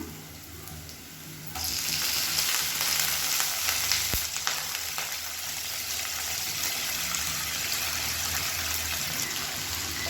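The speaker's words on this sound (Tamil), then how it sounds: "இப்போ நல்லா வதக்கி விட்டுக்கலாம்." Chopped banana stem sautés in a hot pan with a steady, close sizzle that jumps louder about two seconds in and keeps crackling, with a brief stirring clink.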